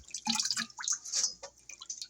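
Water drips and trickles from freshly washed collard greens, a close, irregular run of small splashes and droplets over about two seconds with no speech.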